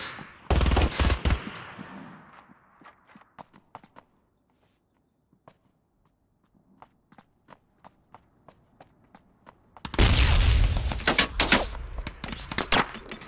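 Gunfire in the online shooter game Ring of Elysium, with loud close bursts of rapid automatic fire at the start and again at the end, and scattered single shots and footsteps in between.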